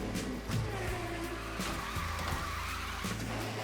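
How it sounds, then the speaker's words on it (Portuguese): Tyres skid as a car drifts in the Disney Speedstorm racing game, a sustained engine roar with shifting squeals over a continuous loud backdrop. "comecei o drift para a direita"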